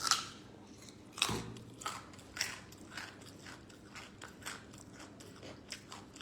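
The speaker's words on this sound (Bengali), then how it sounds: "গাজর খাই, গাজর।" Someone bites into a raw carrot with a sharp crunch, then chews in a string of close, rhythmic crunches that gradually fade, with no talking.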